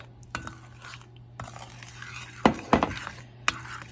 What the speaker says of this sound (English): We're going to stir that all in. The 3/4 cup of corn syrup.